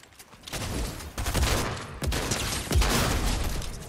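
Video game gunfire in sustained bursts, a loud rattling fusillade of rapid shots with short gaps between volleys and heavy booming undertones, no talking.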